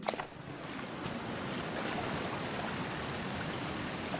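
Steady rainfall in the exploration video game Submerged makes a faint, even hiss and patter that holds without a break, with a slightly louder splash at the very start.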